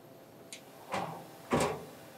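The access door of a Star CNC Swiss-type lathe opening: a small click followed by two sliding, rumbling thuds of the door moving, close and fairly loud in an otherwise quiet shop.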